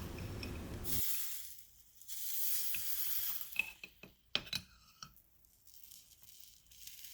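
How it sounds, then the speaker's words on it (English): Hot spoon heated over a flame and pressed onto sugar topping a creme brulee, giving a loud burst of sizzling hiss at first, then a few sharp clicks and short crackles as the sugar caramelizes. "I'm using a spoon and heating it up over a flame and then pressing it down on top of the sugar to caramelize"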